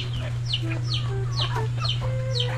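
Several chickens cluck and squawk in quick overlapping bursts close by, over a constant low mechanical hum.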